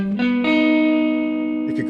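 A single sustained guitar note rings out with effects, sliding into a held tone that sustains and slowly fades.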